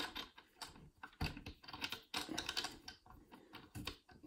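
A screw turned by hand on the stand of a Dell OptiPlex 7780 all-in-one, giving close, quick ratcheting clicks and rattles in irregular bursts, no talk.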